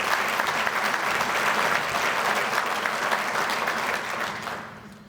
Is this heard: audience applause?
yes